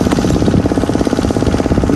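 A cultivator machine tilling soil on a farm rattles close by with a loud, rapid, continuous chugging throb.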